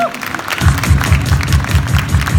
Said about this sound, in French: une bonne main d'applaudissements pour mes démonstrateurs